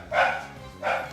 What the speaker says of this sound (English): And there's a dog in the background